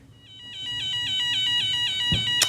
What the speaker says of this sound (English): there should be a sound through the siren